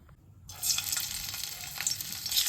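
Bitter gourds dropped into hot oil in a kadai burst into a loud, steady sizzle that starts abruptly after a brief quiet moment and keeps crackling close by.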